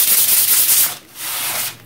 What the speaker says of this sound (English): I have my fine sandpaper, and I'm just going to give it a sanding.